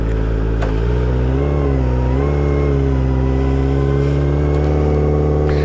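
A Kawasaki ZX-25R motorcycle fitted with a Prospeed Shark high-mount exhaust runs close and loud. Its steady drone rises and falls in pitch through a few blips of the throttle.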